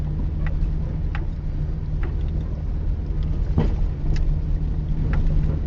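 A truck rumbles steadily along a rough, washed-out trail toward a lake, a constant low engine and drivetrain drone with occasional knocks and rattles over the bumps.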